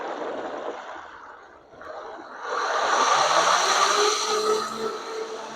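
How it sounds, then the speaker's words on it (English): A kitchen blender runs loud and steady, blending black beans and beets for brownies, its whine briefly dipping before settling into a sustained, rising roar. "we're going to put it in the blender and turn the blender on"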